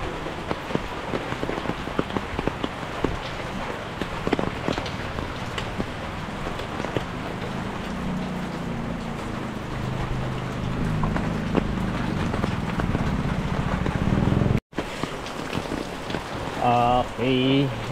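Steady rain pours over a neighborhood with a basketball court, dense and continuous and gradually heavier, with a brief voice near the end.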